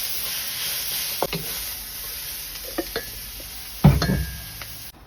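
Minced garlic and ginger stir-fried in oil in a pan for beef char kway teow, a steady close sizzle under a few scraping knocks of a spoon against the metal, ending with a louder clattering stir.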